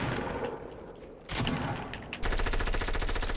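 Rapid automatic gunfire in a Fortnite build battle, loud and continuous, with bursts of shots that grow denser and louder in the last second.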